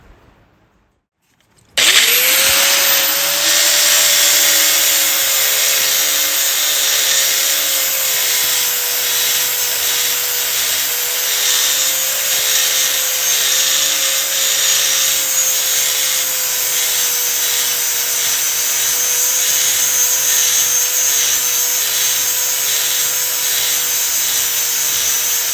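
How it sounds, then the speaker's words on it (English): An angle grinder fitted with a flat disc blends out gouges in a workshop, running loud and continuous after a brief quiet start, with a steady high whine throughout. "I'm gonna try an angle grinder with a flat disc on it and see if I can just kind of blend those out."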